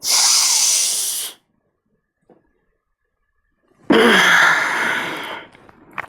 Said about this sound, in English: So breathe in.